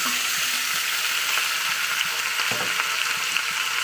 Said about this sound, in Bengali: মাংসটা দেওয়ার পরে আমি আবার 2-3 মিনিট একটু ভাজা ভাজা করে নেবো তেলের উপরে।